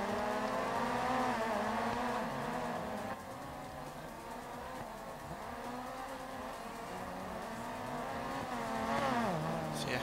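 DiRT 4 rally car in an RX2 Trophy race, its engine droning steadily with gear changes and revving swells, tires squealing and skidding through corners, loud and continuous throughout.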